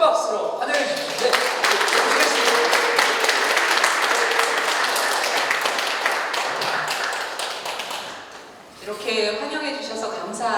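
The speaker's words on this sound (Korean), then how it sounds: "교수님 나오실 때 큰 박수로 환영해 주십시오." A large church seminar audience at Onnuri Church claps loudly in welcome of a professor, a dense sustained burst that fades near the end before a voice begins speaking.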